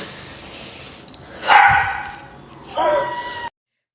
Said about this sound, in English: You're hearing her dogs in the background